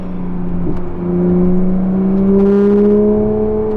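A Porsche 911 GT3 RS of the 991.2 generation with a Soul Performance exhaust revs steadily upward, its engine tone climbing in a smooth continuous rise, loud and close with no talk.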